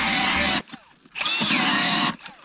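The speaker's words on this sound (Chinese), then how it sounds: "电钻也不行啊，这冰有点厚啊。" An electric drill bores into thick lake ice during ice fishing on a cold day, two loud whining bursts with a short pause between, close by and without speech.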